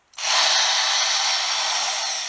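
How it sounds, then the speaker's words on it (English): A 42-year-old power drill spins up and runs steadily at high speed, a loud continuous whine with a slight drop in pitch over a couple of seconds, no voices. "42-year-old drill."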